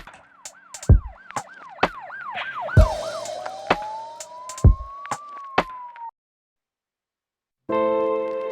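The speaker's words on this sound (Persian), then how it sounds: "صدای عجیب، مثلا آژیر پلیس." A police car siren sound effect wails in repeated rising and falling sweeps, then shifts to a long slow rising tone, punctuated by sharp percussive hits, before cutting to silence and a brief tonal burst.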